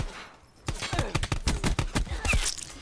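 Rapid gunshots in Black Ops 4 Gun Game, a close burst of about a dozen sharp shots in quick rhythm after a short quiet start.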